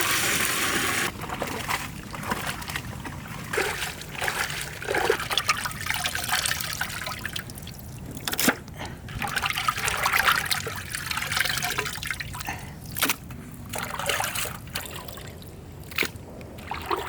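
Water trickles and splashes unevenly while a large tiger stingray is cleaned for cooking, with intermittent pours, drips and handling clatter throughout.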